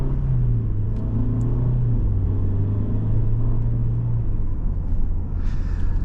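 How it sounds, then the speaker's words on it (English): A 2020 Mercedes-Benz GLE 350 with a 2-liter four-cylinder engine drives along, its steady low engine drone and road rumble filling the cabin at a constant, fairly loud level. "You can tell this 2-liter 4 is a very torque-focused motor."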